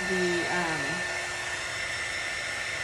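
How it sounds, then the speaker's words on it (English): A heater or hair dryer blowing on paste, a steady close whooshing hum with a constant high whine, and a voice speaking briefly at the start over it. "you don't want to hold your heater or dryer in one spot all at once"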